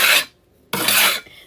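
A small scraper rasps hard across a kitchen counter, clearing baking mess in two loud, close scraping strokes separated by a short pause, then a softer trailing scrape.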